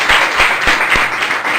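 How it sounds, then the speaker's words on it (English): Classroom students clap for each other at the end of a lesson, a lively burst of many hands with quick irregular claps, close and fairly loud. "Clap to each other."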